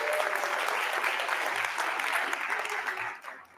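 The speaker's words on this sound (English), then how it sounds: "a round of applause to all the presenters from this morning" At a food-systems innovation session, an audience applauds the morning's presenters with a dense, steady round of clapping that thins and fades out toward the end.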